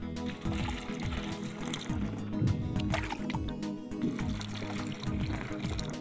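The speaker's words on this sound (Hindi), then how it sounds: "जो मशीन है ना तो इसमें हम पहले पानी डालेंगे" Water splashes and gurgles as it is poured into a crop sprayer tank out on a farm field, a continuous close liquid churning with irregular sloshing.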